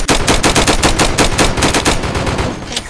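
In a video game, an enemy's automatic gun fires a rapid, steady stream of shots for about three seconds, loud and close and sustained throughout.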